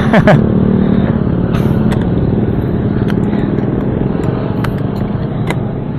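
Motorcycle with a loud aftermarket exhaust pipe rumbling close by on a street outside a fireworks market in Concepcion, Tarlac, a steady throaty drone with a few sharp clatters and pops on top.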